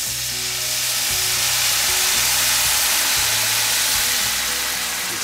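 Red wine poured into a hot pan with garlic, a loud, steady sizzle and hiss filling the whole stretch close up, with a low rhythmic hum underneath.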